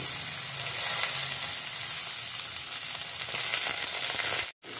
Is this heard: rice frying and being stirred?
yes